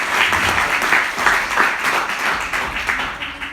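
Audience applause for young panellists at a Birdfair debate, a dense, loud round of many hands clapping that holds steady from start to finish, close and unbroken.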